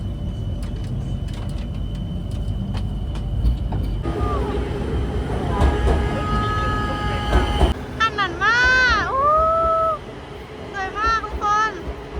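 Riding the Bangkok Skytrain: a steady interior rumble carries an electric motor whine that rises and falls as the train moves, with people talking over it.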